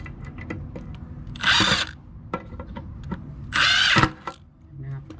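Milwaukee M18 impact drill boring into hard, dry wood, two loud bursts of high whirring and grinding about two seconds apart, with quieter clicks and knocks between and someone talking throughout.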